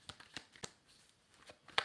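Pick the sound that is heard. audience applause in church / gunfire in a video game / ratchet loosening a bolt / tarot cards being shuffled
tarot cards being shuffled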